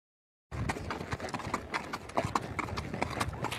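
A horse walks with a steady clip-clop of hooves at close range, the regular hoof beats clear over faint background noise.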